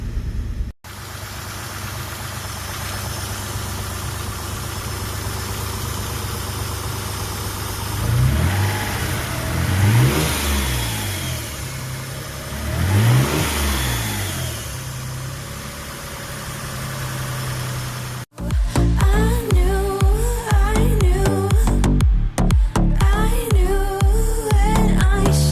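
A 1991 Mitsubishi 3000GT VR-4 engine with GReddy engine management idles, then free revs in two rising and falling bursts, and later a louder, closer idle with uneven pulsing.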